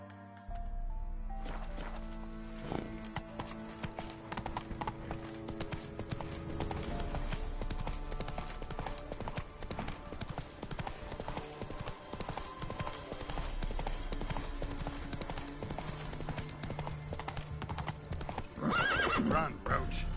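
Roach, the horse from The Witcher 3: Wild Hunt game, gallops steadily with rhythmic clip-clop hoofbeats and occasional neighs, over game music and ambience; a voice speaks intermittently.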